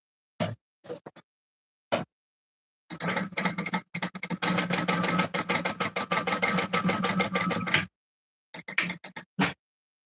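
A sewing machine top stitches about 1/8 inch along a wallet seam, running in one steady loud stretch of rapid stitching, with a few short bursts before and after.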